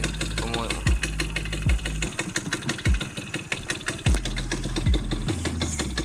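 A car engine idles too low and rough, chugging with a lumpy, uneven rhythm and periodic knocks close by, while someone talks over it.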